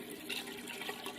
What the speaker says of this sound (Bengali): গরম জলটা দিয়ে দেবো, গরম জলই কিন্তু দিতে হবে।